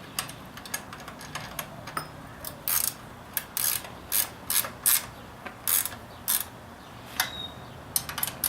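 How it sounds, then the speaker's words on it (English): Bicycle wheel axle nuts being tightened with a wrench during a flat tire repair, giving a series of sharp ratcheting clicks and clacks in short bursts, close and fairly crisp, with no talking. "Tighten up our axle nuts."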